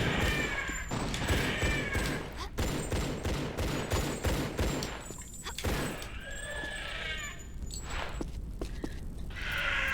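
Gunfire from a Tomb Raider Level Editor custom level, with sharp shots scattered through a steady game soundscape and a few brief animal-like cries between them.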